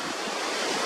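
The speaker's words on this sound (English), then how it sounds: "Windy." Wind gusting against a seaside cliff at a campus point parking lot, about 45 feet up by a cliff fence, a steady broad roar blending with distant surf, loud and continuous with no talk.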